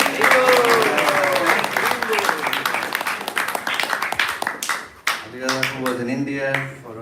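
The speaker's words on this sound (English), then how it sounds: "So let's give a round of applause for Gadadhar for a wonderful class." An audience applauds after a religious class at a Hare Krishna temple gathering, dense steady clapping filling the first few seconds before thinning out as a voice begins talking over the fading claps.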